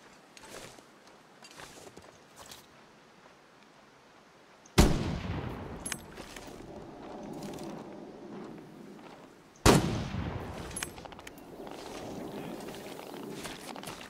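Two loud gunshots from a hunting rifle in the survival video game The Long Dark, several seconds apart, each followed by a lingering echo over a quiet outdoor background.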